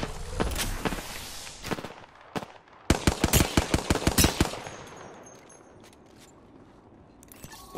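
Gunfire in the video game Apex Legends, scattered shots early on, then a rapid burst of sharp automatic fire that fades into a quieter rumbling tail.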